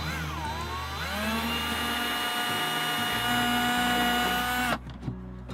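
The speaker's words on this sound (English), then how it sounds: "I use my pilot drill to create the first hole." A pilot drill bores the first hole through a caravan panel, giving a steady, loud motor whine that rises as it spins up and holds for several seconds before cutting off abruptly.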